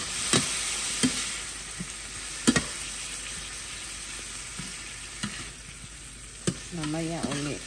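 Chicken frying in a pan hisses with a steady soft sizzle, broken by scattered sharp clicks from stirring, and a brief voice comes in near the end.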